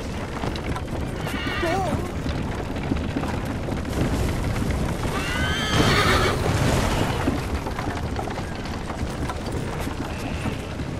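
A horse whinnies in the video game Assassin's Creed Liberation, two rising neighs amid hoof clip-clop, rumbling booms and game noise, with voices calling out underneath.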